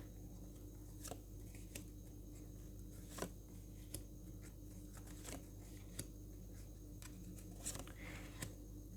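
Tarot cards shuffled by hand in a quiet room, giving soft repeated papery riffles and flicks at irregular intervals over a steady low background hum.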